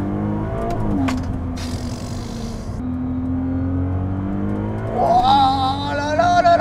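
A Ferrari 296 GTB hybrid supercar pulls away hard. A steady engine drone climbs into a loud, rising rev as it accelerates. It sounds close, from inside or right beside the car, with no talking.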